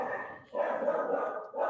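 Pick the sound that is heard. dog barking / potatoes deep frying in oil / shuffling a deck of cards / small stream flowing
dog barking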